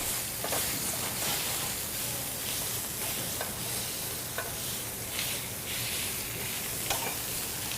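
Sausage for a frittata fries in a pan with a steady, soft sizzle and occasional stirring scrapes, quiet and close, with no talking.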